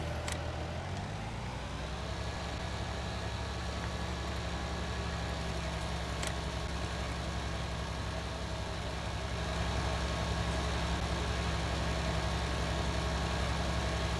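A Deutz tractor engine in Farming Simulator 19 cranks to life and settles into a steady, low droning idle, continuous and moderately loud with a slight swell toward the end, without speech.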